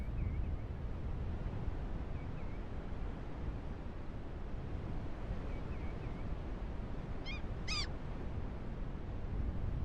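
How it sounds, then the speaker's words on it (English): Brief seagull-like bird cries in the video game BULT, a couple of quick high calls near the end over a constant windy, surf-like background roar, with no talking. "That kind of sounds like a seagull."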